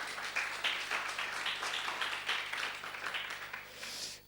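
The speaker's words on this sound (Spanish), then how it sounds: "Un aplauso" Audience applause at a talk by Julián Hernández of Siniestro Total, a steady wash of many hands clapping that holds for several seconds before tapering slightly at the end.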